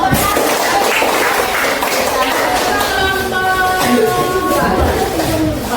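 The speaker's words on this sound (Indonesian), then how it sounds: "Tepuk tangan dulu." A classroom of students claps, the applause dense and continuous throughout, with chatter and voices mixed in under the clapping.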